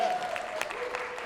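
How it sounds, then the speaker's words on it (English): Applause from a live podcast show audience, steady and fairly close, filling the whole short moment with a faint tonal hum running beneath it. "Let's give that a round of applause."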